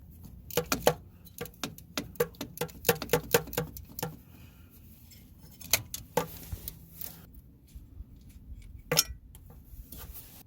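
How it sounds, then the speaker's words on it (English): A 10 millimeter bolt comes off a crankshaft position sensor on a 1999–2006 Chevy Silverado, heard as quick metallic ratchet clicks and clinks in bursts with pauses, fairly close and moderately loud. "Now we'll go ahead and remove that bolt right there."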